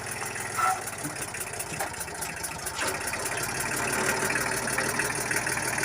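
Kubota L2000 small tractor engine running in reverse gear, a steady, loud rattling diesel chug that continues throughout with slight surges.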